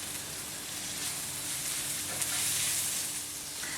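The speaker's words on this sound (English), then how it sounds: "give this a really good mix until the spices are really nice and fried" Spices and peas for Punjabi samosa filling fry in a pan, a steady close sizzle and crackle that continues throughout with faint stirring, and no voices.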